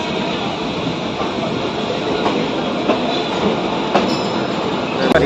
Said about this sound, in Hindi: 211 किलोमीटर की दूरी तय करके अपनी पटना पूर्णा एक्सप्रेस आ गई है पंडित दीनदयाल उपाध्याय जंक्शन पे